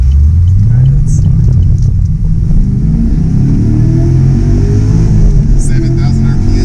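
A 2015 Chevrolet SS with a 6.2-litre LS3 V8, aftermarket intake, exhaust and tune, revving loudly up close, the deep rumble climbing steadily in pitch as the engine winds up.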